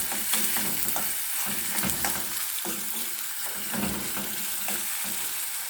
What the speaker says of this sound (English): so I'm put in the seasoning in my pot to fry up